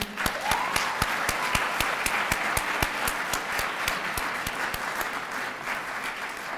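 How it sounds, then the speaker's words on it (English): An evening audience at a school district's annual African American student recognition ceremony claps steadily and loudly for several seconds, a dense wash of sharp, crisp hand claps filling the hall without voices. "Give yourselves a round of applause for being here this evening"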